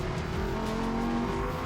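Race car driving hard through a left-hand corner on a circuit, engine note droning steadily with harmonic pitch shifts as it carries mid-corner speed, loud and continuous with no talk.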